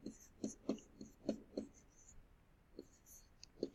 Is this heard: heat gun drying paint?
no